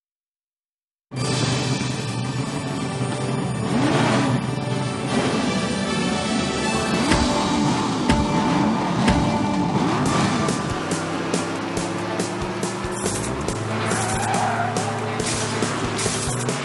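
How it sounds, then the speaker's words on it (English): A racing car engine revs loudly and steadily in the Cars: Lightning League video game, with tire skids layered over the continuous roar for about fifteen seconds after a brief silent start. "Get that engine revving."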